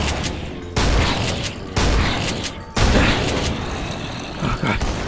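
Gunfire from zombies armed with guns in a Minecraft zombie survival roleplay: three loud, abrupt bursts of shots about a second apart, each followed by a rattling, echoing decay.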